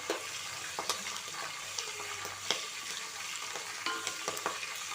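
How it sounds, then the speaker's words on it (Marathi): Bhadang, a puffed rice snack, frying in oil while being stirred continuously over a low gas flame, giving a steady sizzle broken by regular scraping stir clicks, close and fairly loud. "एकसारखं सतत हलवत आपण हे व्यवस्थित असं तेलामध्ये तळून घेतलेलं आहे"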